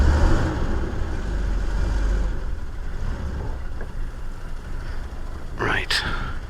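A 1947 Dodge car engine rumbles at low revs as the car creeps forward onto a slope, a steady moderate hum ending with a brief squeak.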